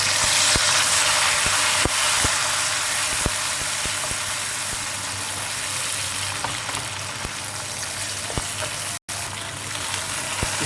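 Finely chopped tomatoes sizzle in a frying onion and garlic tadka, a steady close crackle with occasional clicks of a stirring spoon.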